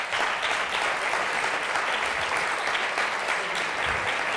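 Dense, continuous audience applause at an Italian corporate event with the MSC cruise line's country manager, loud and steady for the whole stretch.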